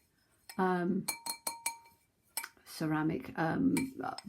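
A ceramic pottery pudding bowl for steamed puddings is handled in a kitchen, giving several light, bright clinks and taps in quick succession. Someone talks between and over the clinks.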